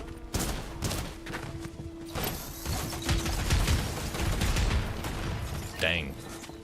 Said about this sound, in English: He immediately fired on me.